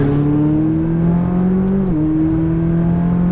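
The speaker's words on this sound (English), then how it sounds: "Full throttle behind that car." A McLaren 570 engine held at full throttle, a steady loud drone with a brief dip in pitch partway through as it keeps pulling hard, no voices over it.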